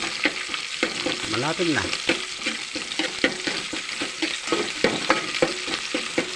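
Vegetables stirred with fried fish in a frying pan, steady sizzling and frying throughout with scraping stir strokes near, and a brief spoken remark.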